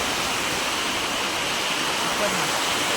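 A monsoon waterfall at Chandranagar village near Dapoli in Konkan pours in a steady, dense roar of rushing water that stays loud and close without a break.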